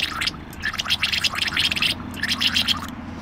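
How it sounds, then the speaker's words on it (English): Airbrush being back flushed with water with a finger held over the tip, giving bursts of bubbling, gurgling spray in quick repeated pulses, close and fairly loud, with no talk. "Finger over the tip and back flush."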